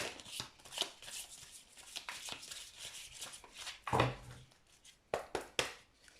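A deck of cards being shuffled by hand, with quick papery riffles and flicks in uneven bursts, close up and soft, a few sharper snaps standing out.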